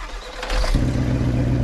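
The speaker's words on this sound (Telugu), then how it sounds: "ఓకే ఫస్ట్ ఇంజన్ స్టార్ట్ చేయాలి" Bus engine starting in the mobile game Bus Simulator: Extreme Roads: a short cranking clatter, then the engine catches midway and settles into a loud, steady low idle rumble.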